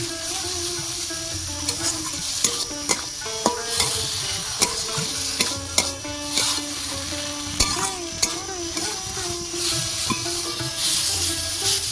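Mashed banana blossom frying in a kadai, with a continuous loud sizzle and repeated sharp scraping and stirring clatters of a spatula against the metal pan, close up and without talk.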